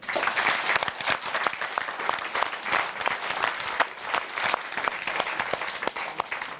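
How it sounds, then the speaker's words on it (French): Steady audience applause fills the room after a quiz team scores points on a first clue, dense continuous clapping with sharp individual claps standing out, loud and sustained throughout with no talk. "ça s'applaudit, bravo"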